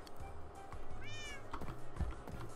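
A cat in the Minecraft video game meows once, clear and fairly close, over quiet game ambience and faint background noise, with no speech.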